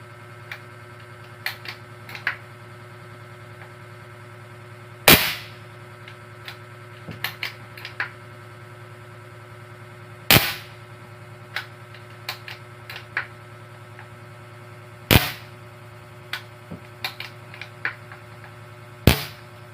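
A PCP air gun pressurized to 850 PSI fires repeated shots, four sharp, loud cracks spaced about five seconds apart, with smaller clicks and handling taps in between over a steady low hum.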